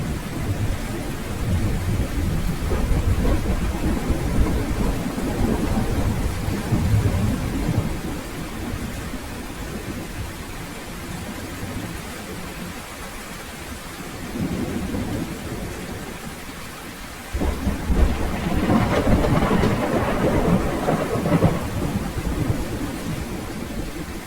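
Heavy rain pours down steadily through a thunderstorm, with loud rumbling thunder that swells near the end and no voices over the constant roar.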